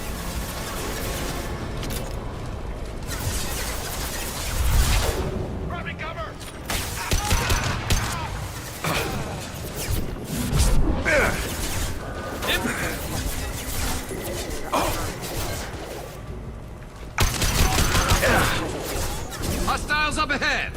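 Continuous gunfire and battle noise in the video game Mass Effect: Legendary Edition, steady loud shooting with crashes and mechanical clanks, overlaid by in-game voices calling out orders.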